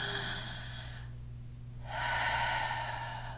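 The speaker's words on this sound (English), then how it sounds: "Let's take a nice deep breath." A slow, deep breath during a stress-release yoga session: a long airy inhale, a short pause, then a fuller, louder exhale, close and unaccompanied by talk.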